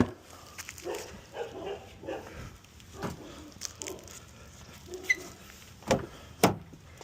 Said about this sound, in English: Got dogs barking.